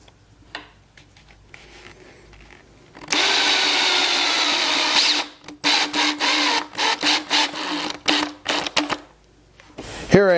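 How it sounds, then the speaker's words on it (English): A power drill fitted with a Craig countersink bit pre-drills holes in a workshop: a sustained whine, then a series of short repeated bursts with clicks and pauses between them, close and loud. "I pre-drilled the holes using a Craig countersink, which gives you a flat countersink."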